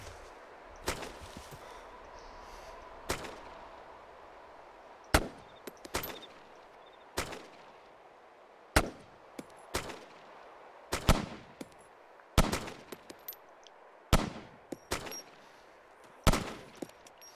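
Loud, sharp gunshots in DayZ ring out one after another at uneven intervals, some single and some in quick pairs, each with a short echoing tail against a quiet background.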